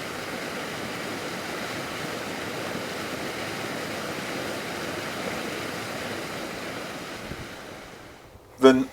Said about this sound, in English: So we arrive at the spring, which was gushing because of the recent snow.